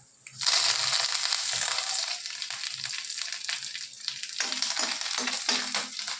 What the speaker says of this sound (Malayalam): രണ്ട് വറ്റൽമുളക് ഇട്ട് കൊടുക്കാം. കുറച്ച് കറിവേപ്പില ഇട്ട് കൊടുക്കാം.